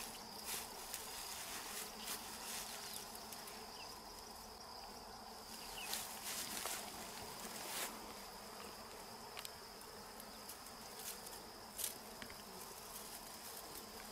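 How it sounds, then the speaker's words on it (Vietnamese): Swarm of wild bees buzzing steadily and up close during a queen bee capture outdoors, a dense continuous drone with brief louder passes of individual insects. "Bắt cái con ong chúa đó. Xem con ong chúa đâu, phải bắt lại,"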